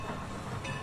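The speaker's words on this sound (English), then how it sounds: "the Strasburg Railroad locomotive just went through here" A Strasburg Railroad steam locomotive rolls past on the line beside a farm cornfield, a brief steady rumble of train wheels on track heard at moderate distance with no talk.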